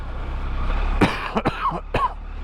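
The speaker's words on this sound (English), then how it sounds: "Sick and tired of hearing your coughing." Several sharp coughs in quick succession, close to the mic, over a low steady rumble like an idling engine.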